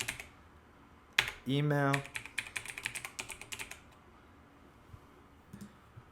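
Rapid clattering keystrokes on a computer keyboard while filling in an account sign-up form, a quick burst of clicks following a brief electronic tone, with a voice speaking quietly alongside.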